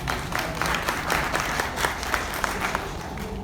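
An audience at a meeting presenting the Boutik221 national commerce platform breaks into steady applause, many hands clapping at moderate distance for a few seconds without pause.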